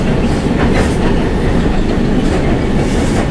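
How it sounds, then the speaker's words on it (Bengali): A MEMU commuter train rolls into Dum Dum station on the main line from Sealdah, a loud, steady rumble of rail cars with rhythmic wheel clatter lasting throughout, close by and without voices. "এটা মেমু ট্রেন ঢুকছে"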